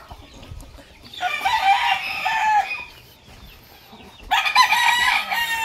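Street breed gamefowl roosters and hens crowing and clucking, two loud crowing calls separated by a short lull, with scattered clucks and farmyard noise in between, close by.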